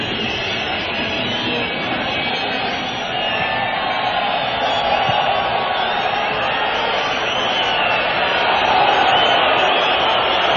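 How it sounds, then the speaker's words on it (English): A large football stadium crowd at a Moroccan match reacts to extra time with a sustained roar of noise that swells slightly toward the end. "And this is the crowd's understandable reaction."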